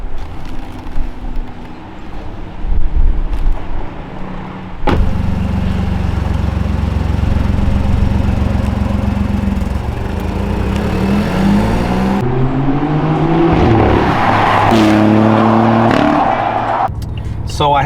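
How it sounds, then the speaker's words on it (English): A BMW i8 hybrid with a rear gas engine, Fi aftermarket exhaust and stage 2 ECU tune drones and revs through several gear changes, heard from inside the car, with a person talking over it early on. "This is the BMW i8. It's a hybrid, electric motor in the front, gas motor in the rear."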